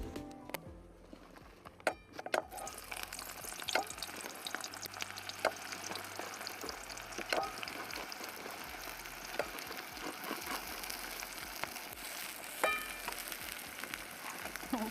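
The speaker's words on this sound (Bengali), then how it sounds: "তো বন্ধুরা এই যে আমাদের পেঁয়াজটা ভাজা হয়ে গেছে" Onions fry in a pan with a continuous crackling sizzle and scattered sharp clicks and pops, moderately close and even throughout, with no voices.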